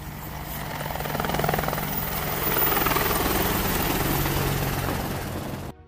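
A Boeing AH-64 Apache attack helicopter's steady, throbbing rotor and turbine roar holds close and loud for several seconds, then cuts off abruptly.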